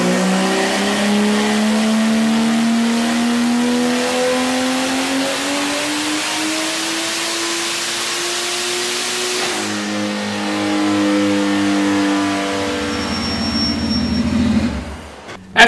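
A Vortec 4200 inline-six roars through a dyno pull, rising steadily in pitch under load for about ten seconds, then drops after the throttle lifts and winds down to a near idle, loud and close throughout.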